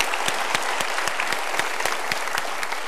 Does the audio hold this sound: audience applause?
yes